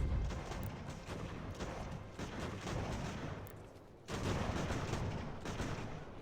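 Musket volleys crackle in Ultimate General: American Revolution during a fort defence, a dense, continuous rattle of distant gunfire with thumping reports, briefly dipping before resuming at full intensity.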